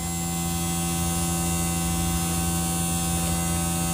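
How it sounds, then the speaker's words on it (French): A small electric fan hums steadily and closely, a constant drone with no break and no voices. "Le bruit, c'est le ventilo."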